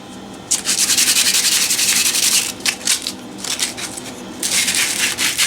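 Wooden peg loom pegs are sanded by hand to clean frayed edges, giving bursts of dry, raspy rubbing strokes close up, with short pauses and quicker scrapes between longer passes.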